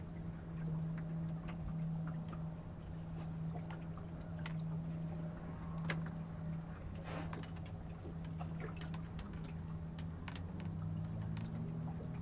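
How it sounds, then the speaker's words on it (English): A steady, low diesel engine on a beach herring drift-netting boat drones throughout at moderate distance, with faint clicks and knocks scattered over it. "That sound like diesel engines, not petrol."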